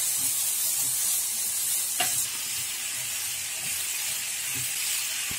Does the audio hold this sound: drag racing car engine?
no